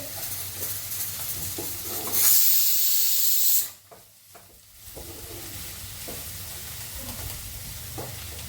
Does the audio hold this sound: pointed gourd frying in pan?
yes